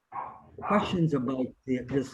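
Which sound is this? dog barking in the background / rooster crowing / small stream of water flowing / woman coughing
dog barking in the background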